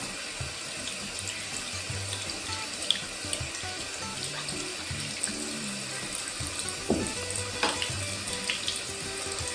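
Makeup brushes and beauty blenders are rinsed under a running tap, a steady stream splashing into the sink continuously and fairly close, with no talking.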